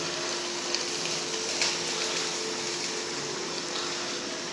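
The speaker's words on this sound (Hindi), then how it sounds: "अब इसमें हम टमाटर ऐड करेंगे।" Ground tomatoes, about half a kilo, are poured into a cooking pot for an achar gosht curry, giving a steady wet gushing pour that lasts the whole moment and is heard close with no talking.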